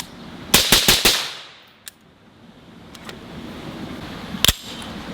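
Suppressed 5.56 rifle shots from a KAC SR15 with an 11.5-inch barrel and PTR Vent 3 suppressor, firing supersonic ammo: a quick string of four sharp, close cracks, then a lone shot and a final double shot.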